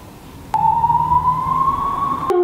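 An ambulance or police siren wails steadily at mid pitch, rising slightly as it passes, loud and close, with low traffic rumble underneath.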